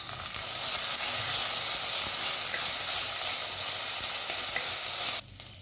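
Ginger garlic paste sautés in a hot pan for a potato curry, giving a loud, steady sizzle and hiss that drops away abruptly just before the end.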